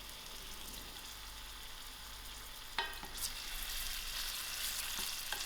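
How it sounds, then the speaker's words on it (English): Onions frying in hot oil in a pot, a soft, steady sizzle and crackle that swells slightly with a few brief stirring clatters. "I'll allow these onions to fry."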